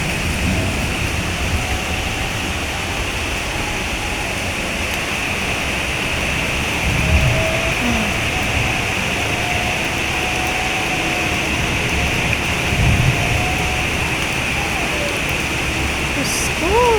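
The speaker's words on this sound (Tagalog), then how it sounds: "Ang lakas ng ulan." Heavy rain pours down in a steady, loud, unbroken roar that lasts throughout, with faint tonal sounds drifting over the downpour.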